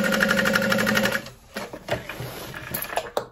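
A sewing machine runs quickly, basting a backpack lining, with a loud rapid stitching rhythm for over a second, then stops and is followed by fabric handling and clicks, with no one speaking.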